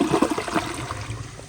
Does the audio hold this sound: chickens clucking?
no